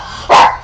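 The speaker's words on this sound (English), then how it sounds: "Sorry about the puppy." One loud, close puppy bark, a single short burst standing alone against a quiet room.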